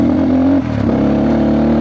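A motorcycle engine runs close and loud, holding a steady droning note that dips briefly and then picks back up.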